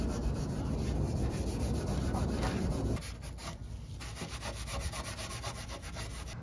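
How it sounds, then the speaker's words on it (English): Close, steady abrasive sanding scrapes back and forth over the rear bodywork of a Honda Accord in a fast, even rhythm, loud at first and slightly softer after a brief shift, with no voices. "So now we're fully ready to start sanding"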